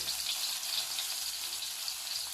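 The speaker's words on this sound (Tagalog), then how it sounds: "So gisa-gisa lang natin yan lahat guys." Garlic with its skin and chicken sautéing together in a pan for a quick chicken ginataan, a steady close sizzle with bright hissing spatter throughout and no talk.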